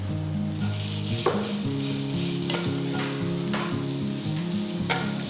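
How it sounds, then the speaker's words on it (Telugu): Grated raw mango drops into a hot pan of oil with curry leaves for an Ugadi dish, setting off a loud, continuous sizzle close by, with a few spatula scrapes and a steady hum underneath. "నెక్స్ట్ నేను ముందుగా తురిమి పెట్టుకున్న మామిడికాయని వేస్తున్నాను."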